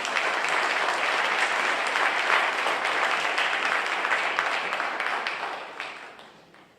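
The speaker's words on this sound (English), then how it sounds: "Give them a round of applause." Applause from an audience at an education summit at Laney College, a dense sustained clapping that holds steady for several seconds, then tapers off near the end.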